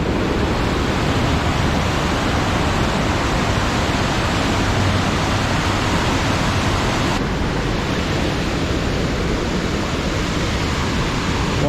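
A high-volume waterfall beside Going-to-the-Sun Road in Glacier National Park roars as a steady, dense broadband rush, loud and unbroken, with no voices over it.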